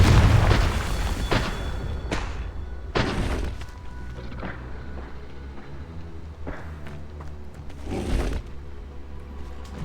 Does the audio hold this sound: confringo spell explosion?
yes